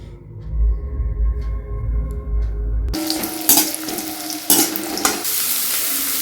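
After a low rumbling start, vegetables for fried rice hit a hot pan and sizzle loudly and close up, with spatula scrapes and clanks against the metal breaking through.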